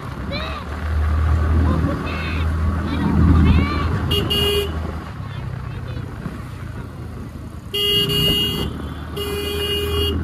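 Short car horn blasts sound twice in busy traffic, loud bursts over a steady engine rumble and road noise, with a voice talking early on.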